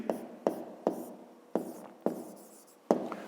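A pen writes out a fifth-grade math solution on paper in a series of sharp scratching strokes, roughly six distinct bursts spaced about half a second apart, close and fairly quiet.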